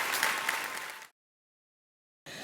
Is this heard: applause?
yes